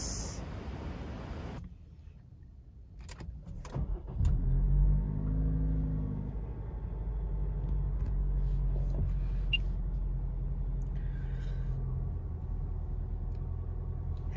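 The engine of a new Subaru Levorg starts with a click and crank, then settles into a low, steady idle rumble heard close by, with faint clicks and no talk.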